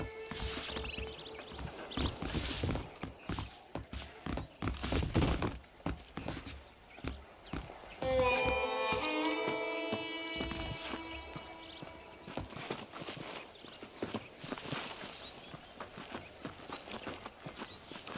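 Horse hooves clip-clop in Red Dead Redemption, brisk irregular clopping up close for several seconds, then a horse's whinny sounds midway before the hoofbeats resume and trail on without speech.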